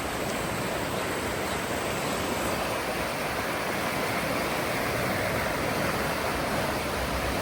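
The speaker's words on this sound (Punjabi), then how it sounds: "ਪਾਣੀ ਸ਼ੂਕ ਦਾ ਪੂਰਾ" Loud, continuous roar of rushing floodwater, a dense and steady wash of sound with no pauses and no voices.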